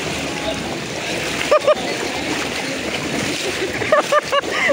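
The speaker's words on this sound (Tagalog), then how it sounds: "grabe, lakas ng alon" Strong waves splash noisily against a boat during severe flooding, a steady churning wash with a few sharper slaps near the middle and end, while people shout and talk over the water.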